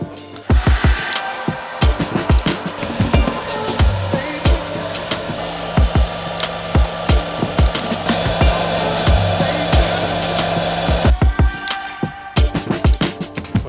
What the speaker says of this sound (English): I found a hairdryer.